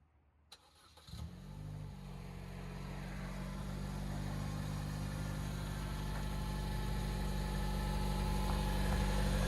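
A 2012 Chevy Cruze LT turbo with straight-pipe exhaust cranks and fires up, then settles into a deep, rumbling idle that grows slightly louder and steadier, heard close with no talking.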